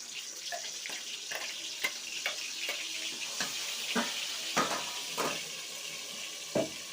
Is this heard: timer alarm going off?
no